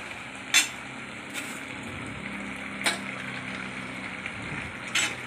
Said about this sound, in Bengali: আবার নাড়াচাড়া করে নিলাম।